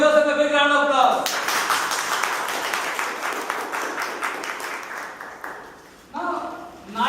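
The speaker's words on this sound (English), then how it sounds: "Give yourself a big round of applause." A room of people gives a round of applause, a dense patter of many hands clapping that swells and then fades out. A voice talks just before and just after it.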